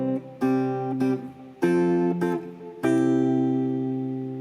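The first four bars of Twinkle Twinkle Little Star as a chord-melody on guitar. Three strummed chords each ring out and decay, the last sustaining longest, and no one speaks over them.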